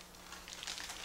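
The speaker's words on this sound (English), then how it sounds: "why don't you go ahead and take the styrofoam off, Katira?" Styrofoam packing is pulled off a newly unboxed countertop water ionizer, giving a brief, soft rustle and crinkle close by in a quiet room.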